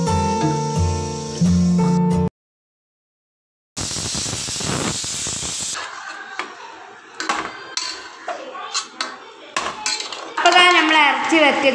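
Kitchen vessels are washed with a string of close, irregular clinks, clanks and scrapes of metal pots and dishes. They follow a short burst of music and a brief silent gap.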